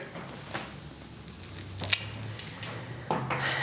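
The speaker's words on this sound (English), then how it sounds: "I might cut this a little bit shorter" Scissors snip through a flower boutonniere stem laid on a bullet casing, a couple of short, sharp clicks close by in a quiet room, with a light rustle between the cuts.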